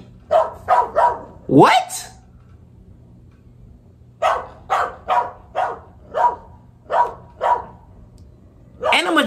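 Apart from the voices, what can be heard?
dog barking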